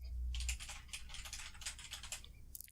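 Typing on a Logitech G213 Prodigy RGB gaming keyboard: a quick, dense patter of key presses under a low hum at the start, steady and moderately close, ending in a final sharper keystroke.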